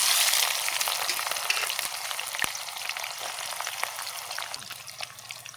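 Bay leaves, whole garam masala and onion dropped into hot oil, giving a steady crackling sizzle that starts loud and slowly settles, close and continuous.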